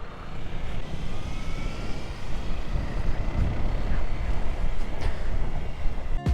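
A car engine roars like a jet plane during an evening drive through Kyiv, a loud sustained rumble and whoosh that swells and holds for several seconds, heard close from inside or beside the car with no talking.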